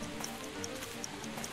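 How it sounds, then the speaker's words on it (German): Steady rain in a Sherlock Holmes video game, a soft continuous patter with faint repeating drips, heard alone at low level. "Es regnet doch."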